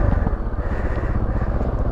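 A Beta Alp 4.0 motorcycle pushes through water, its engine a steady loud low rumble with a constant wash of splashing, heard up close.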